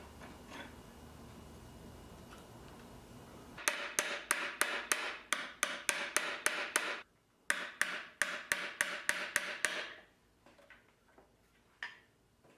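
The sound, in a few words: hammering a roll pin into a T56 shifter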